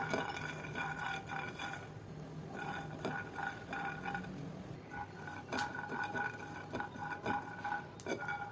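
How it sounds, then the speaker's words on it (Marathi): Peanuts roast in a pan on a gas stove, with light scraping, stirring and faint clinks of a spoon against the pan over a soft, steady background hiss, quiet and without talk. "एक पॅन घ्यायचा त्याच्यामध्ये दोन चमचे शेंगदाणे आपल्याला भाजून घ्यायचे इथं मी शेंगदाणे भाजून घेत आहे"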